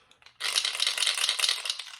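A musky trolling bait is shaken close up, giving a bright, dense, continuous rattle that starts abruptly and lasts under two seconds, with no talking.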